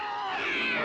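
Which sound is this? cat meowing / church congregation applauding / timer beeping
cat meowing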